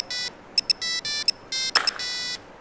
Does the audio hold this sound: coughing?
no